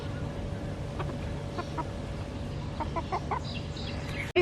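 A Silkie rooster gives soft, intermittent clucks over steady outdoor background noise, with a louder close knock or thump at the very end.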